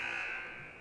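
A basketball game buzzer at a high school gym blares as a single steady electronic tone, loud at first and tapering slightly over its brief duration.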